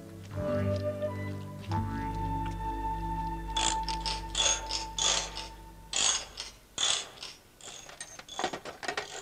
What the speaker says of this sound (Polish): To klucz francuski.